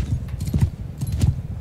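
Horse hooves clip-clop steadily in Mount & Blade II: Bannerlord, a small, slow mount trotting along in a medieval combat game, with a rhythmic pair of heavier hoof beats standing out over a dense, low rumble.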